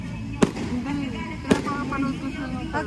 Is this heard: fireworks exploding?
yes